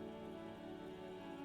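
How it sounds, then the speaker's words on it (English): Steady, soft rain in the video game Disco Elysium, an even wash of falling drops with no gaps and no voices. "This rain will not let up anytime soon."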